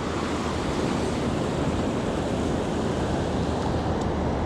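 Ocean surf breaks on a San Diego beach at Oceanside, a loud, continuous roar of churning water and wind with no clear pauses and no voices.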